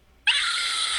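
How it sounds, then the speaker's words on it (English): A person letting out a sudden, shrill, high-pitched scream that cuts in abruptly after near silence and holds loud and steady to the end. "I'm gonna scream really loud"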